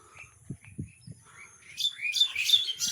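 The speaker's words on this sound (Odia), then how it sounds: "ଆଉ ଏପଟେ ଚଢ଼େଇର କିଚିରି ମିଚିରି ଶବ୍ଦ ପୁରା ସୁନ୍ଦର ଲାଗୁଛି" Small birds chirp and tweet in bursts while feeding their chicks at a rainy-day market, with low thumps early on and a rising cluster of bright, overlapping calls in the second half.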